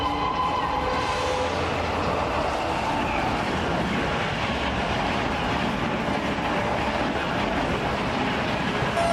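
A train rumbles past loud and close in a continuous clattering roar with rhythmic wheel clicks, heavy and steady throughout.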